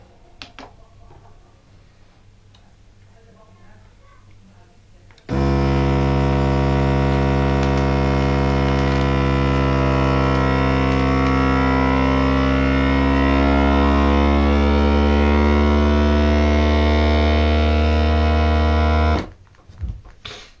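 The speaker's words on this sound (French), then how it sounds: "on appuie sur vide air et soudure" A countertop vacuum sealer pumps the air out of a bag and then seals it automatically, a loud steady motor hum switching on after a few quiet seconds, holding for about fourteen seconds and then cutting off abruptly.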